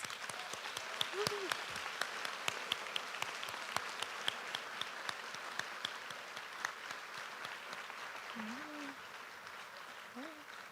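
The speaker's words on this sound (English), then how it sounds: "please join me once again in applauding all of our new National Honor Society members" An audience in a theater applauds the new members at a National Honor Society induction ceremony, with steady dense clapping that runs throughout and a few scattered whoops rising above it.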